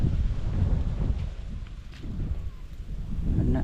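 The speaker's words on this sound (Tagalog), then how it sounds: "palakas na naman, palakas ng hangin" Strong wind buffets the microphone with a steady, low, rumbling roar that surges and eases throughout.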